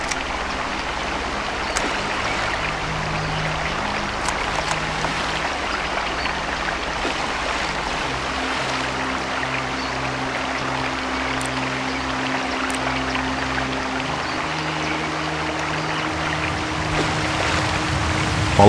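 A waterfall in the PC shooter game Marine Sharpshooter 2 rushes steadily in a broad, continuous wash, with a low hum and faint clicks from the game beneath it.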